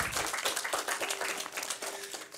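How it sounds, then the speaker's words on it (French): Audience applause at an entrepreneurship event on starting a business, steady, dense clapping from a room full of people that carries on evenly throughout. "Voilà, vous pouvez l'applaudir."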